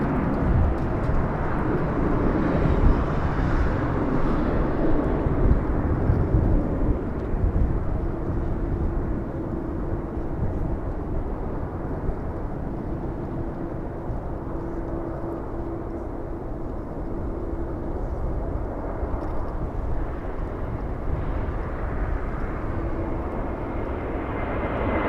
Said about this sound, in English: Delta's 831 flying in from Minneapolis, a 3-hour, 25-minute flight